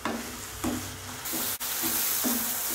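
Tamarind water mixture fries in a pan with a steady sizzle, broken by repeated scraping stir strokes at an even rhythm, close by and without talk.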